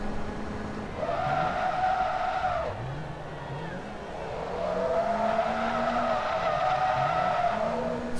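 Lotus Sport Exige race car in Forza Motorsport 2 skidding, with long wavering tire squeals rising and falling over a steady engine drone across several seconds.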